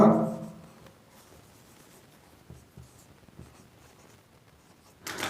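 A teacher writes an example on a board during a Class 12 English grammar lesson, making faint scratchy strokes in short bursts. A voice is heard briefly at the start and again at the end.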